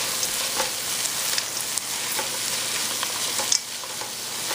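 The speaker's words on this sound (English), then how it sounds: "we're gonna go ahead and add our peas in there. Fry those up just a little bit." Peas frying in a pan with infused dill weed, a continuous bright sizzle with faint stirring scrapes and an occasional sharper tap, steady and close.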